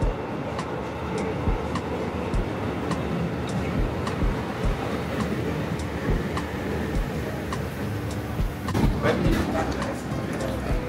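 Train at New Chitose Airport station rumbles steadily close by, a continuous rolling drone with faint rhythmic ticks, with a brief louder burst near the end and a station announcement chime or voices faintly in the background.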